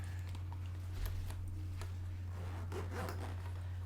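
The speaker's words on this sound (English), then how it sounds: "you're going to close that zipper up" A zipper being pulled shut on a handmade fabric pencil pouch, a short raspy rub repeated in a few quick strokes over a steady low electrical hum, with no talking.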